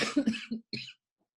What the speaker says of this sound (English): that's not a coronavirus cough